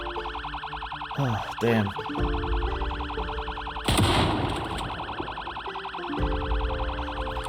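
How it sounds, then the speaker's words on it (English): A car alarm blares in the Project Zomboid video game, a steady pulsing electronic tone that runs throughout with loud bursts and clatter partway, and a voice briefly speaks over it. "I know there is a setting in the sandbox to control how long alarms go for."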